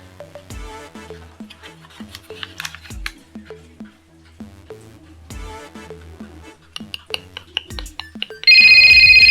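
Motorola International 7500 mobile phone receiving an incoming call: after a stretch of scattered clicks and taps, a loud electronic ringtone bursts in near the end, steady and close.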